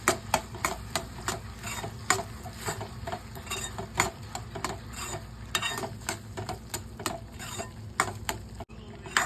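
Melted jaggery being stirred with nutmeg and cardamom powder for rava puran poli filling, heard as a steady run of close scraping and clicking spoon strokes in a rhythmic pattern.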